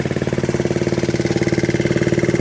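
A small Honda QA50 mini motorcycle engine runs steadily after restarting, a fast, even putter with rapid regular pulses, loud and close, with no talking.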